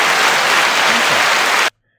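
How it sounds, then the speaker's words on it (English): A single burst of hand clapping, loud and close, a dense rattle of claps that cuts off sharply into silence. "Hand clap."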